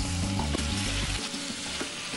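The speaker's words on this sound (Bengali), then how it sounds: "এবার গোটা গরম মশলা ফাটিয়ে দিচ্ছি।" Whole garam masala spices crackle and sizzle in hot oil at close range, with a busy, continuous frying hiss and a few sharp pops, and no voices.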